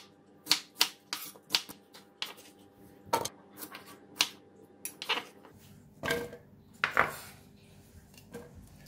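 A knife chops red onion on a cutting board in a kitchen, giving a dozen or so sharp, irregular taps and clacks at close range, fairly quiet, with no talk.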